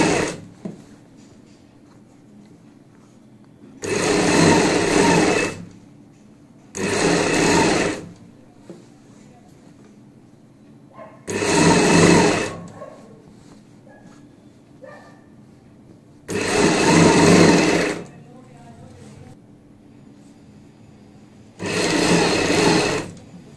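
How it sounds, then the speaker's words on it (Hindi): Sewing machine stitching along the belt of a box-pleat palazzo pant, running in five separate bursts of a second or two each, with quiet pauses between them; no talking. "बेल्ट के साथ साथ सिलाई लगाएंगे।"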